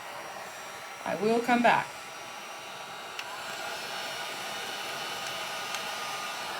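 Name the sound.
heat tool drying a wet t-shirt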